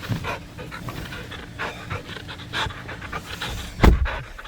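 A dog pants close by on a muddy, wet day outdoors, quick rhythmic breaths with a louder snort or shake near the end.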